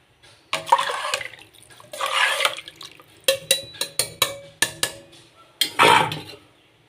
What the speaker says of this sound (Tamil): அதுக்கு 6 டம்ளர் தண்ணி ஊற்றணும். ஊற்றிக்கலாம்.